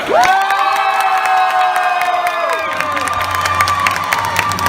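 Crowd cheering and applause from riders aboard The Great Movie Ride at Disney's Hollywood Studios on its closing day, a loud sustained roar of voices and clapping over steady tonal music that drops to a lower hum partway through.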